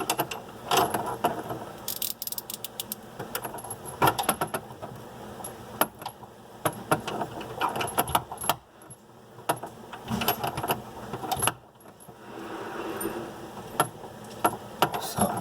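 Under a kitchen sink during faucet installation, a ratchet fitted with a wrench adapter rattles and clicks in uneven bursts as it tightens the fittings, with metallic jangles and pauses between the turns.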